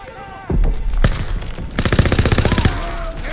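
Machine gun fire in Call of Duty: WWII during a D-Day beach landing, with sharp loud blasts followed by a fast, steady burst of automatic rounds, close and dominant.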